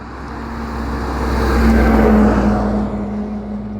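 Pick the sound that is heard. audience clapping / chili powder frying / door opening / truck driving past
truck driving past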